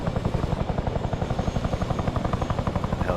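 An Arma 3 helicopter comes in to land with loud, steady rotor thumping and a low engine drone filling the whole stretch, without any speech.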